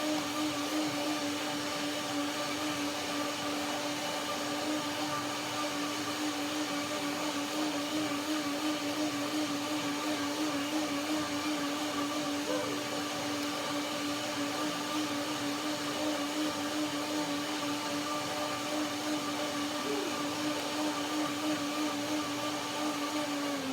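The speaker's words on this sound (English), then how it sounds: "first I will blend it for a second time and then I combine it" Blender running continuously on a ginger macadamia cream dressing, a steady whirring motor hum with a constant pitch that holds evenly for over twenty seconds, close and alone without talk.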